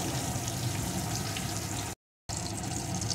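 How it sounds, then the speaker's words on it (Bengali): Rohu fish pieces coated in salt and turmeric sizzle steadily in hot oil, a moderate continuous crackle with a brief cut partway through. "মাছগুলোকে এপিট ওপিট করে লাল লাল করে ভেজে নেব।"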